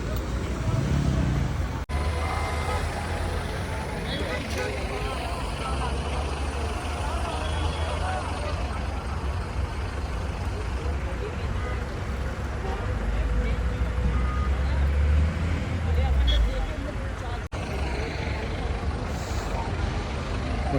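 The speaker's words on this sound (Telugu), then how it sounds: "మొత్తం అంతా ట్రాఫిక్ జామ్ అయిపోయింది" Traffic jam on a road after an accident, with a continuous din of idling cars, trucks and buses, reversing beeps and air-brake hisses, and a babble of nearby voices throughout.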